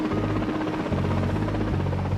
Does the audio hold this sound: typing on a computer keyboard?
no